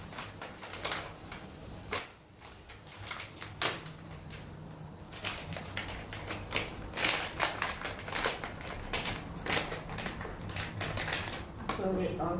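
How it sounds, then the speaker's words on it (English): Wax beads tipped into a heated wax warmer pot, a long run of sharp, rapid clicks and rattles as the small hard beads fall and skitter, close and fairly quiet. "we'll go ahead and put in our wax"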